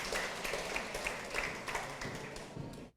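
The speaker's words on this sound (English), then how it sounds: "Round of applause, please." Audience applause after a speaker's introduction at an event, a short burst of clapping that fades out within a few seconds.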